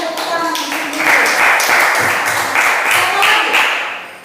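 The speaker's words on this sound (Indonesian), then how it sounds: "berikan tepuk tangan di sini" A classroom group claps hands together, a steady bright patter of applause at close range that swells and continues briefly, with a voice faintly beneath it.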